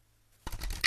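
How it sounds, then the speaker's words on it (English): Tarot cards are shuffled by hand: after a short silence, a quick, close papery riffle and rustle rises and ends in a brighter flick. "these cards are just fun shuffling."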